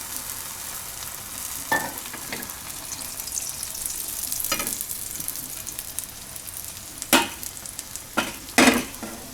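Dudhi (bottle gourd) uttapam fries in oil in a pan with a steady, soft sizzle, broken by a few sharp crackles and spatula scrapes as it is turned.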